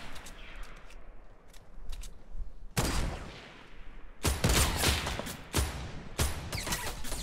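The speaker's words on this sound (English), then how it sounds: "someone else is shooting me" Gunfire in Fortnite: scattered faint distant shots, then loud close bursts of rapid shooting in several volleys, with the nearer firing growing heavier toward the end.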